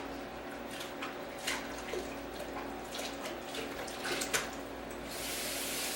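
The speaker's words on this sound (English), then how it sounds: "So I'm going to wash this in hot soapy water." Hot soapy water running at a kitchen sink while a glass jar is washed, a steady faucet stream with occasional clinks and splashes of handling, growing slightly fuller near the end.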